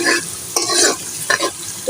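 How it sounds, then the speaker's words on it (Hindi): Onions browning in a pan for nihari give a loud, close sizzle, with two or three quick bursts of stirring in under two seconds. "तो ये प्याज ब्राउन हो रही है।"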